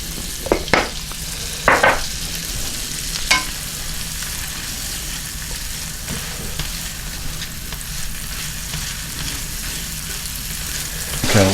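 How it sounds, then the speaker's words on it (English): Onions fry in a pan for chicken livers with a steady, close hiss of sizzling oil, a few sharp scrapes and knocks of stirring near the start, then a long unbroken sizzle with no speech. "While the onions are cooking down over here"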